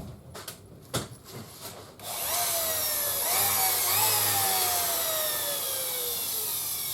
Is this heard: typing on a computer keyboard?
no